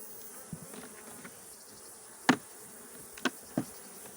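A honey bee colony in its hive just before honey harvest hums with a faint, steady buzz, broken by a few sharp knocks or clicks from close by.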